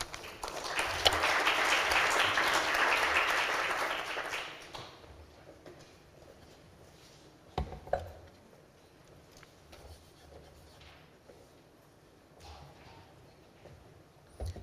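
Audience at a forum session applauds to welcome a speaker, a full burst of clapping for several seconds that fades out into quiet room noise with a few scattered knocks.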